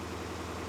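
A 2017 Dodge Challenger Scat Pack with a modified exhaust idles steadily, a low, even rumble that stays constant and close for the whole short stretch.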